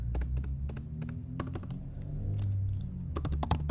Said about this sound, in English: typing is mad loud. You're probably getting that on the recording.